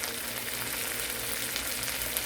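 Garlic shrimp frying in a pan, a steady dense sizzle that runs evenly throughout with no pauses, heard close up and alone.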